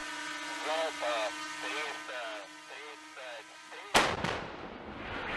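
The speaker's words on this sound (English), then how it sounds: "Russian MSTAS howitzers in the Donbass." Russian Msta-S self-propelled howitzer firing in the Donbass, a single sharp heavy blast with a decaying rumble that cuts in after several seconds of unrelated droning tones.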